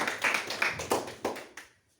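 Short, thin audience applause at the close of an export management programme, a few scattered claps fading out into silence within two seconds.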